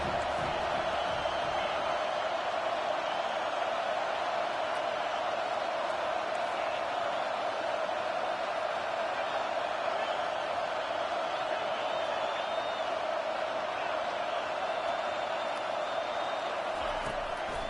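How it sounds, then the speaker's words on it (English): Football stadium crowd roaring for the defense on third down, a loud, continuous wall of cheering and noise that holds steady without a break. "Decibels rising as the crowd gets behind this defense on third down."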